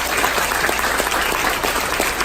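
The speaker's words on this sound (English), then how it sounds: "if we can give a big round of applause" A seminar audience gives a warm round of applause for visiting guest Kelly, steady continuous clapping from a modest crowd filling the whole moment, with no one speaking over it.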